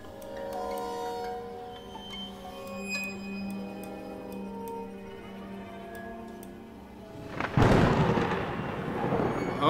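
A lightning bolt strikes in the video game Geometry Dash, a sudden loud broadband crash of thunder breaking in over steady electronic game music and rumbling on for a couple of seconds.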